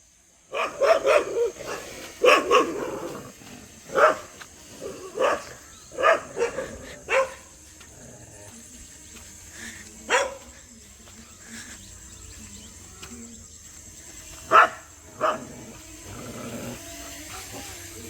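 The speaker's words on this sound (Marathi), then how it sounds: "पळय सगळे कुत्रे भोगतात पयल्या ड्रोनाक" Several dogs bark in bursts at a flying drone, close and loud at first, then fewer and farther apart, with the drone's steady high hum in the background.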